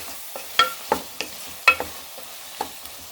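A spoon clinks and scrapes as sambar is stirred in a pan after chili powder goes in, with about eight short, sharp taps spaced unevenly over a faint background.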